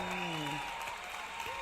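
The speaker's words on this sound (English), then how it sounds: "What's all that cheering about?" A crowd cheers and applauds in a steady, dense wash of clapping and shouting, with a voice briefly audible over the noise at the start.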